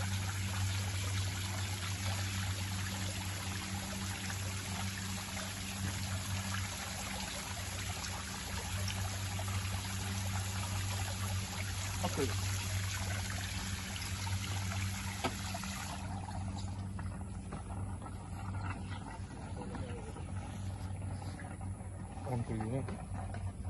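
Bore well water pours steadily into a container for collection, a continuous close splashing stream that holds even for a long stretch and thins slightly toward the end.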